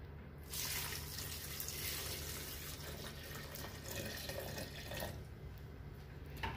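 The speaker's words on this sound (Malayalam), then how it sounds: "ആവശ്യത്തിനുള്ള വെള്ളവും ചേർക്കുന്നുണ്ട്" Water pours steadily into a spice mixture for Kerala egg curry, a soft close trickle and splash that runs for several seconds and tails off near the end.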